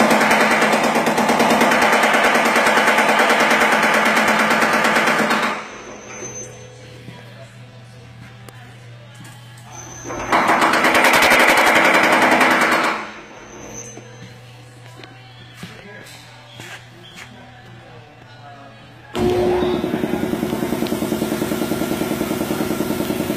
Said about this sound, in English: now we're over at the power hammer